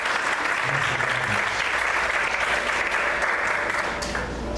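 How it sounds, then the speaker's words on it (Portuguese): A church congregation applauds during a Portuguese-language service, with steady, fairly loud clapping filling the room throughout and a low hum underneath, easing off slightly at the very end. "Vamos aplaudir ao Senhor."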